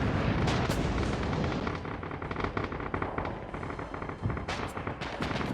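Gunfire in the World War II shooter game Red Orchestra 2 is heard as dense, continuous volleys of rifle and machine-gun shots, with sharp cracks over a constant battle rumble.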